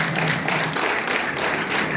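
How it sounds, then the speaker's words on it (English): A large group of students at a school morning assembly claps their hands together, a loud, continuous wash of many overlapping claps heard close and without talk. "Clap your hands."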